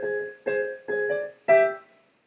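The Super Mario ground theme, measure 17, played on piano: four short clusters of sustained notes in steady succession, the last chord ringing slightly louder before fading, with no voice.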